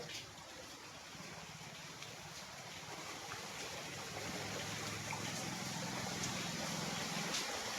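Floodwater rushing after heavy rain in Chikhli, Dharashiv, as a steady broadband roar of flowing water, close and continuous, with faint low rumble underneath and no voices.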